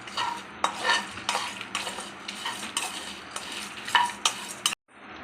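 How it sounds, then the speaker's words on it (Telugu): Two sprigs of curry leaves fry in a pan, giving a steady close hiss broken by repeated sharp scrapes and clinks of a utensil stirring against the metal, with the sound cutting off near the end. "ఇప్పుడు దీంట్లో ఒక 2 రెమ్మల కరివేపాకు వేసి కూడా ఫ్రై చేసుకోవాలి."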